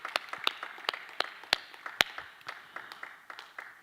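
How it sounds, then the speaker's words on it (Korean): A small group claps at a church monthly prayer meeting, with sharp, fairly close individual claps in an irregular, sparse rhythm that fade gradually. "박수하겠습니다"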